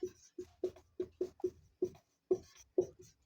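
Chalk writing out a circle's circumference on a board in a maths class, a series of short, distinct taps and strokes in an uneven rhythm, close and fairly quiet with brief pauses between marks.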